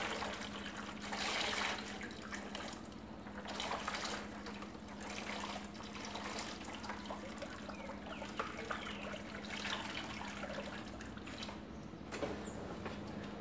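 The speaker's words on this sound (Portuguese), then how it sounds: "Depois de mexido, vem comigo, vamos virar ele na forma." Mixed plaster and water poured into a mold, a steady close trickling and pouring wash that runs continuously at low level with small splashy variations and no talk.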